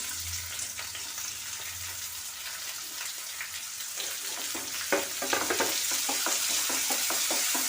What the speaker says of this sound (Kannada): ಆನಿಯನ್ ಮತ್ತು ಕ್ಯಾಪ್ಸಿಕಮ್ನ ಹಾಕೊಂಡ್ಬಿಡೋಣ.